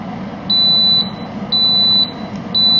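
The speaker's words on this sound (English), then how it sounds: "I want to hear this beep" A loud, steady high-pitched electronic beep from a Mealthy CrispLid air fryer lid repeats at an even pace, roughly twice per second, over a low background hum.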